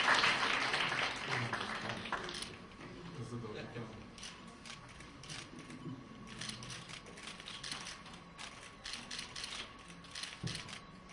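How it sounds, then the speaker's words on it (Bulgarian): Audience applause at the BG Fashion Icon 2016 awards ceremony for Anton Hikimyan, a steady patter of hand claps filling the room at moderate level, strongest at the start and then settling into a thinner continuous clapping. "Аплодисменти за Антон Хикимян"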